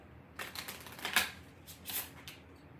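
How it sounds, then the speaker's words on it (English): Quick, soft bursts of tarot cards being riffled and shuffled up close, a few crisp flurries with short pauses between them. "I'm going to give it one more shuffle."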